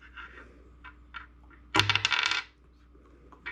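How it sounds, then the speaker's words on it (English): Dice rolled onto a hard surface, a close, bright burst of rattling clatter lasting under a second amid an otherwise quiet room. "I'll roll the dice and"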